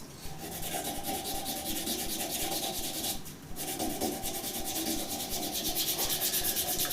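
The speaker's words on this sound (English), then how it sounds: "I might give it a little bit of hand sand" A wooden hybrid shaving brush blank spinning on a lathe while sanded by hand, giving a steady, close, continuous abrasive rubbing hiss with a fast rhythmic pulse and one brief pause midway, no voices.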